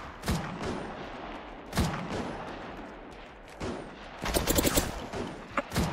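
Gunfire in the Apex Legends video game: several sharp shots spaced apart, then a fast automatic burst, close and loud against a noisy background.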